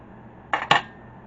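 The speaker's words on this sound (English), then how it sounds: "I'm going to take my fork and mash it down like that" A fork mashing broccoli, bacon and cheddar pastry filling in a dish, two quick close metallic clinks of fork against the dish, alone in a quiet room.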